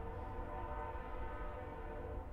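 A train horn sounding nearby outdoors, one long, loud, sustained blast with rich layered tones and a low rumble under it, lasting the whole moment.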